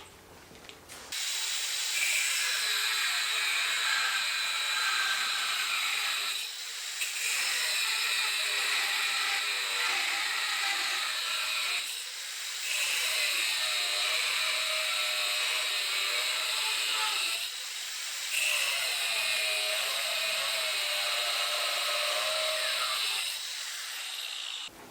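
Power tool making four cuts while running off an EcoFlow Delta Max power station, a loud sustained whine broken by short dips between each of four long cutting passes.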